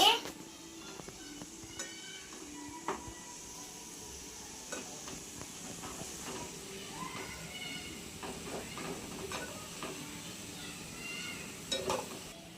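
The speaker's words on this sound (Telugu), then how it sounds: "తీసండి, బాగా కలుపుకోవాలండి." Potatoes frying for an aloo fry are stirred in a pan, giving soft scraping and clinks over a faint sizzle, mostly quiet with a few sharper knocks, while a person talks through it.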